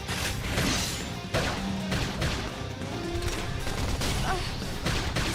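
Dense, continuous gunfire from Xenoblade Chronicles X: Definitive Edition with rapid bursts and crashing impacts, loud and chaotic throughout.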